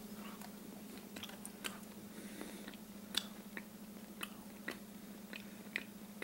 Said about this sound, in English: Just grab a little piece here. Start chewing on this.